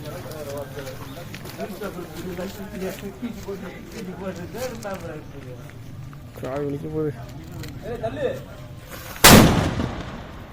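People chat for several seconds in Sivakasi, then a single sharp, loud firecracker bang bursts out near the end, followed by a brief rumbling tail.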